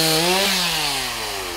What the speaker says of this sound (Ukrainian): Добре працювати, легка бензопила.